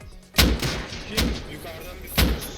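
Gunshots in the survival game Rust during a heavy firefight: three sharp, loud cracks spaced about a second apart, each with a short echoing tail, over low background rumble.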